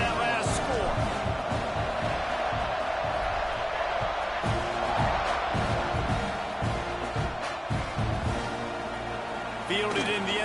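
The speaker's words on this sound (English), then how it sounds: "this crowd is buzzing after that last score" A football stadium crowd roars and buzzes after a touchdown, a broad, loud, sustained wash of noise with a commentator talking over it and a brief shift near the end.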